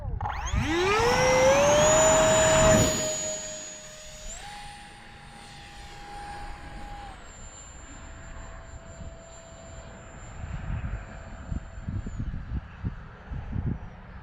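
An RC Value Hobby 4S jet trainer's electric ducted fan spins up to a loud, steady high-pitched whine, steps in pitch a few times, then settles into a quieter sustained tone over outdoor background noise.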